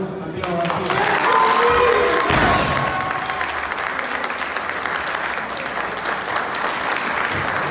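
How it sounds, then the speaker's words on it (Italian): Sustained applause from a crowd at an amateur MMA event, loud and dense throughout, with some cheering mixed in. "applausi"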